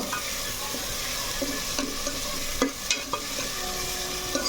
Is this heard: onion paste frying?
yes